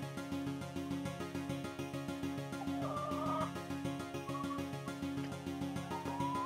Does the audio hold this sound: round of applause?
no